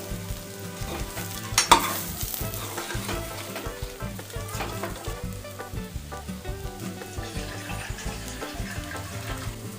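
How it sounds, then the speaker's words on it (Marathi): Stuffed brinjals sauté in masala in hot oil, giving a close, steady sizzle broken by repeated scraping and stirring clatter, with one sharper clank early on. "आता यामध्ये भरलेली वांगी घालायची आणि एक ते दोन मिनटं परतवून घ्यायचे मसाल्यांमध्ये"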